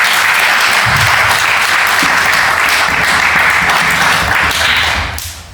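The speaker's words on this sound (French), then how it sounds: "Applaudissons pour le Seigneur" A church congregation bursts into loud, sustained applause during a worship service, dense clapping filling the whole stretch before tapering off at the end.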